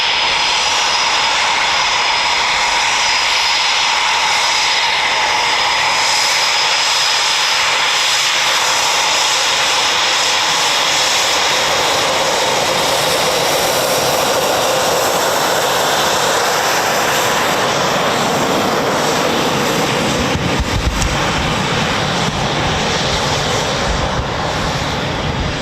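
Eurofighter Typhoon FGR4 jets at RAF Coningsby, a quick reaction alert station, roar loud and steady, building to a thunderous rumble toward the end with no talk over it.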